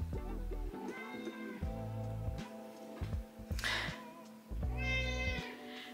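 A house cat meows repeatedly and close by, several drawn-out cries spread across the clip with short gaps between them, heard on their own with no talking.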